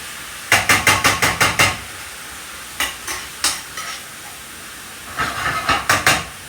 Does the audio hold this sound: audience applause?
no